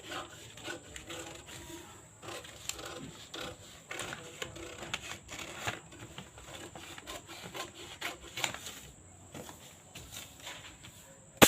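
Scissors snip through blouse fabric during cutting, a series of quiet, irregular crisp cuts and fabric rustles close by, with no talking.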